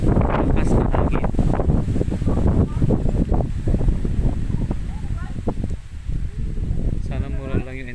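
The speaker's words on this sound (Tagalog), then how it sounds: "Lakas na hangin." Strong wind on a mountaintop in Mansalay, Oriental Mindoro, buffeting the microphone in rough gusty bursts while people talk over it.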